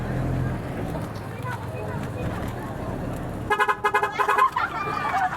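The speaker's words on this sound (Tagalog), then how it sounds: "May busina yan." A car horn toots in a quick series of short honks after a stretch of engine rumble and background voices.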